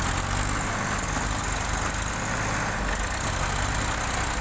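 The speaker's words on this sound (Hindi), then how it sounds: "दो ट्रैक्टर टोचन किया जा रहा है इसमें, ट्राली है इसमें" Two tractors towing a trolley, their engines running as a loud, steady, low rumble that carries on without a break and with no voices over it.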